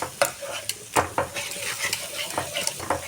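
A masala of fried onions and spices with whipped sour yoghurt sizzles in a pan over low gas for an omelette curry, with quick clattering scrapes and taps of a spoon stirring against the metal.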